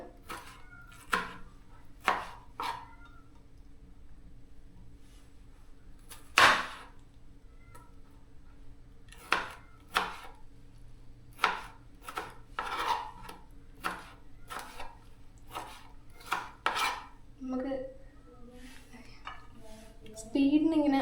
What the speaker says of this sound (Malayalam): ഈ പൊതുവെ തക്കാളി അരിയാൻ ഭയങ്കര ഇഷ്ടമാണ്